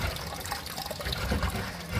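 Water sloshes and splashes steadily as it is scooped and bailed from a flooded garage using a plastic bucket, a continuous wet churning close by with no talk.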